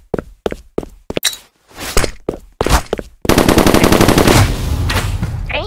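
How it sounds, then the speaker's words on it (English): Sharp SMG shots ring out in a video game, first as scattered single bursts with gaps between them, then as a dense, sustained stream of loud rapid fire. "No way, you got an SMG!"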